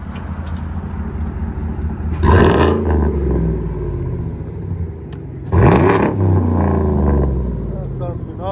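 A 2018 Chevy Silverado LTZ Z71 with a 6.2L V8, straight-pipe dual exhaust and high-flow cat revs twice up close, each blip a loud raspy roar over a burbling, lumpy idle.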